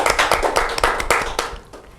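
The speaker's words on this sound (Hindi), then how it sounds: "तो एक बार जोरदार से तालियां हो जाए।" An audience at a community meet-the-icon event claps together in a burst of applause. The clapping is loud and brisk for over a second, then tapers off.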